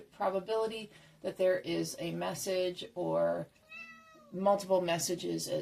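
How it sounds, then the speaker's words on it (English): A pet cat meows a few times indoors in a home office, its cries close and clear between stretches of someone talking. "that's my cat"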